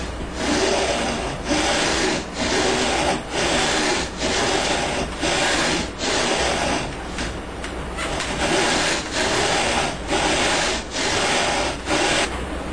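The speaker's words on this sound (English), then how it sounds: "the file mounted here in this block that has a 20-degree angle on the side, which that will also ride along the top of the fretboard" A file mounted in a block with a 20-degree angled side, beveling the edge of a wooden guitar fretboard. It rasps in steady rhythmic strokes, about one per second, loud and close, with no speech.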